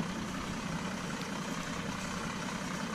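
A farm tractor idles at planting time, its engine a close, steady, loud rumble running evenly throughout with no voices.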